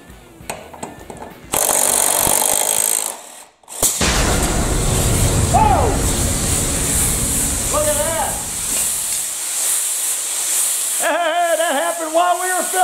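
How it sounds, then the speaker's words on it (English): An air line on a 30-inch Toro TimeMaster mower blows off with a sudden loud hiss of escaping air that cuts off abruptly, leaving a rumbling, rattling machine noise underneath and someone talking. "Look at the airline blew off and broke my blower."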